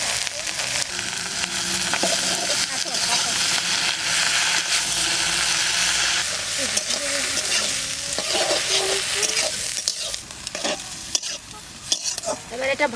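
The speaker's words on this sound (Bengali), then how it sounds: "ডিম ভাজা হয়ে গেছে, এবারে শাক কটা দিয়ে দেবো।" Pumpkin leaves fry in oil in a pan, seasoned with salt and turmeric, giving a loud, continuous sizzle broken by the scrape and clatter of stirring, close up and without speech.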